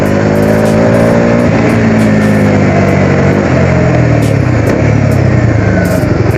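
A Bajaj Dominar 250 motorcycle engine revs hard and pulls away, loud and close, its pitch sweeping upward through several rising gear pulls with a rough, droning exhaust note.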